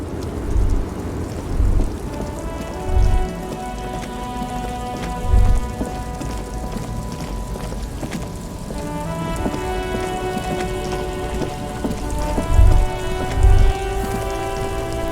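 Steady rain falls in the video game Disco Elysium, a constant hiss under a sustained ambient music drone, with several heavier low thuds rumbling like distant thunder at irregular intervals.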